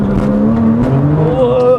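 A Porsche GT2 accelerates hard, its engine note climbing in pitch through the gear. The loud, close-up engine drone rises steadily, with brief bursts of extra noise over it.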